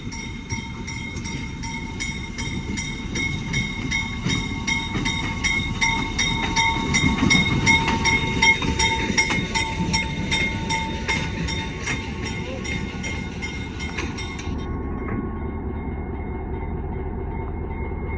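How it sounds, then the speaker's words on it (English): Pennsylvania Railroad diesel locomotive running in reverse, a steady rumbling engine drone with rail noise and a high whine, building slightly in the middle then holding steady, no talk. "But here comes our engine running backwards right now."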